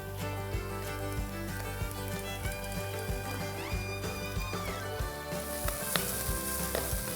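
Goan prawn balchao masala with onions, ginger and garlic sizzles and fries steadily in a pan, a continuous close crackle with occasional stirring clatter and knocks.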